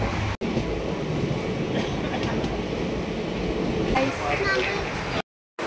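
A train rumbles steadily along the rails with a continuous loud roar and faint rhythmic clatter, cutting off abruptly near the end.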